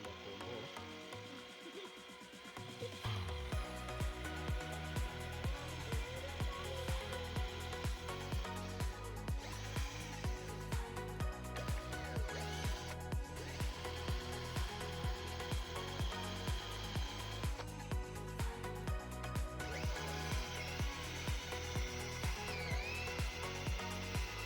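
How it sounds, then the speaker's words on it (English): A power drill with a step drill bit grinds through a car part in a steady, rhythmic churn, loud and close, running continuously after a brief quieter start. "It was now time to bring in the stepper drill bit and go all in."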